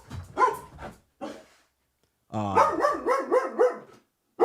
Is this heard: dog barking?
yes